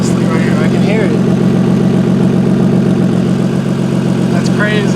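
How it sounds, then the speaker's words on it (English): A car engine idles steadily and loud at close range, a turbo-kit setup with an exhaust leak adding a raspy ticking chatter over a constant low drone, with a voice speaking briefly over it. "There's a fat exhaust leak right here. I can hear it."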